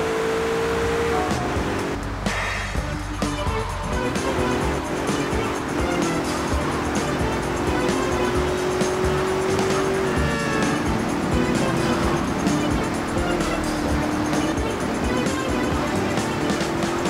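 Car engine driving in GTA: Vice City on PS2, a steady loud hum with rumbling low end, joined by music and a brief voice early on.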